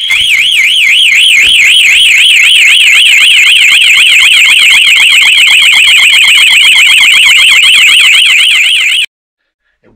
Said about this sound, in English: Yeah, so anyway, that is the alarm.